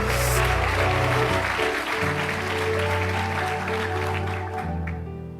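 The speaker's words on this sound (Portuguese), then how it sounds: "aplauda com força" A church congregation claps strongly for Jesus Christ during a Portuguese-language service, sustained applause layered over steady organ or keyboard chords, tapering slightly toward the end.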